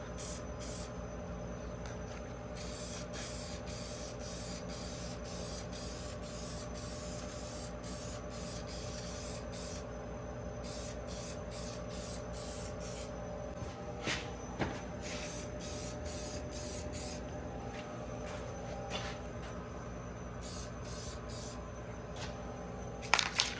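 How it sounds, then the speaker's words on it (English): Aerosol can of Wrinkle Plus wrinkle paint sprayed onto a part during a 1956 Chevy LS swap, a steady close hiss running almost continuously with a few brief breaks in the spray. "A fresh coat of Wrinkle Plus."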